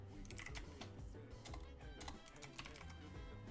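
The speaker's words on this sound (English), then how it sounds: "I'm like typing run back rematch or something" Rapid, steady typing on a computer keyboard during a live Union Arena card game session, a dense patter of key clicks heard up close and alone, with no voices.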